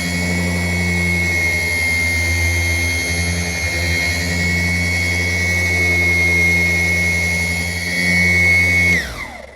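A lightweight polishing machine spins at speed 4 against car paint on an FJ Cruiser, a loud steady high whir with a constant drone close by, dropping off sharply as it shuts down.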